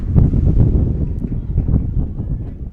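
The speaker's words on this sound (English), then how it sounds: "here on a very windy day" Strong wind buffeting the microphone on a very windy day at an outdoor high school baseball tournament, a loud, continuous low rumble with gusty surges.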